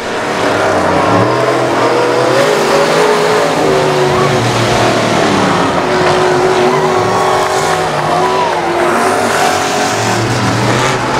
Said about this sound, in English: One lap left for the 57 of Jason Kelly.